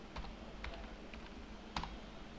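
Keys clack on a computer keyboard in Microsoft Word 2007 as a name is typed, a quick irregular run of faint close clicks with a louder pair near the end, over quiet room hiss.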